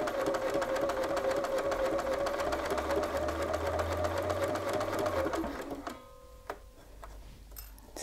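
A sewing machine stitches a shirt pocket with a fast, steady, close mechanical whir and rapid needle ticking for about five seconds, then slows and stops, leaving a few light clicks.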